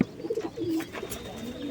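Raj golla pigeons brooding on eggs in a loft at Singair, Manikganj, give short, close, throaty coos in quick succession, with a faint murmur behind them.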